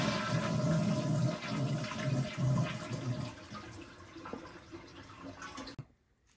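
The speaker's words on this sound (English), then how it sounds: "we're just gonna flush this, let the water go down" Toilet flushing during a toilet replacement job, a loud close rush of water that gradually tapers into gurgling drainage from the bowl before cutting off abruptly.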